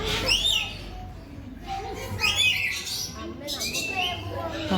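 Parrots in a village park give several shrill squawks and whistled calls at intervals, fairly close, over a background of people talking and murmuring.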